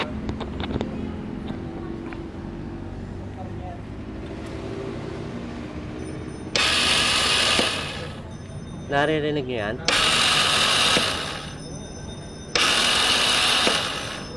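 A Kymco Super 8 scooter's electric starter spins without engaging the engine, making three loud, harsh whirring bursts of a second or two each, separated by pauses. Someone speaks briefly before the first burst.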